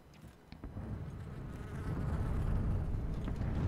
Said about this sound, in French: Et des mouches aussi.